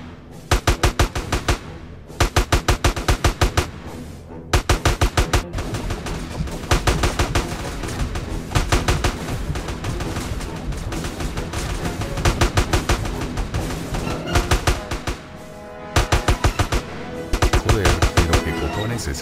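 Machine gun fire from GTA San Andreas rattles in long rapid bursts separated by short pauses, loud and close, with voices briefly heard between volleys.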